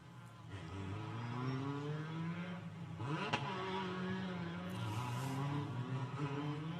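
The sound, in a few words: Formula 4 race cars at the Macau Grand Prix circuit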